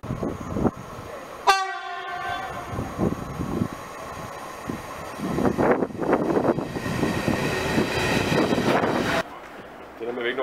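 A Danish regional train on the Odense–Padborg line sounds its horn in a sharp blast, then rumbles and rattles loudly past at close range before the noise cuts off abruptly, with voices talking in the background.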